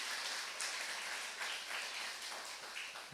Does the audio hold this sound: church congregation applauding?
yes